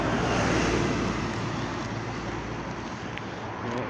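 Road traffic near Old Hatfield, heard from a walking path: a continuous low roar of passing vehicles with some wind rumble, steady and moderately distant, with no one talking.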